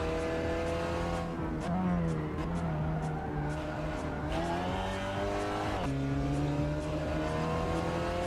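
Race car engines from the Assetto Corsa racing game whine and rev steadily throughout, with pitch sweeps as gears change and some tire squeal, loud and continuous.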